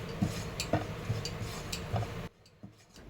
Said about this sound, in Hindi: थोड़ा सा धनिया और नारियल को भून लेती हूँ